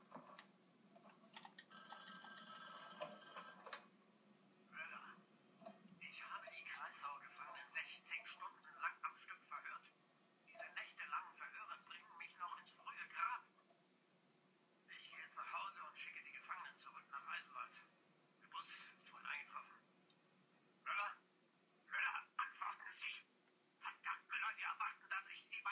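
A telephone rings in the Wolfenstein The New Order video game, a short bright burst of repeated rings near the start, followed by a run of choppy speech.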